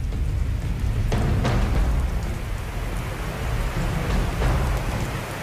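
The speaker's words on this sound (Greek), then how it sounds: "Και η βροχή δυναμώνει διαρκώς." Heavy rain pouring steadily outdoors during a Survivor competition game, a dense continuous hiss of rain on surfaces with a few sharper impacts and low rumbling underneath.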